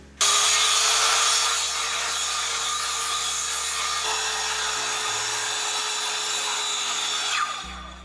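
Wooden board for a wall panel in a DIY cat-door and gate build is cut with a continuous, loud buzzing power saw that runs steadily for about eight seconds, its pitch shifting slightly partway through, with no talking.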